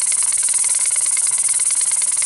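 A dial-gauge pressure cooker used for canning gives off a steady, loud, high hiss of escaping steam while pressure builds, with a faint rapid pulsing rattle underneath and no talk.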